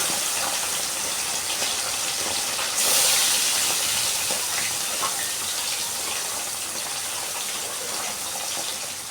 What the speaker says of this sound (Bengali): গরম হয়ে গেলেই হলুদ লবণ মাখানো টাটকিনি মাছ তেলে ছেড়ে দিচ্ছি।